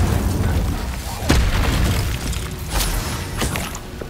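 An Incendio fire spell cast in Hogwarts Legacy, giving a booming burst with a whooshing roar and popping crackles that sit under dense game noise, with a few sharper hits scattered through.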